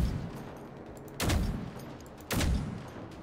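Gunfire in a video game aimed at tanks: two sharp, loud shots about a second apart, each with a brief ringing tail over a low, quiet background.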